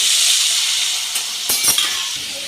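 Vegetable stalks dropped into hot spiced oil seasoned with dry red chilli for a Bengali chorchori, a steady close hiss of frying throughout with a few brief clinks and sputters midway.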